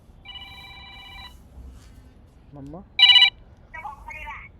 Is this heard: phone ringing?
yes